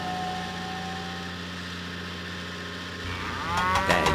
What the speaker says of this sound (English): Diesel must deliver the cow to Farmer McCall's farm.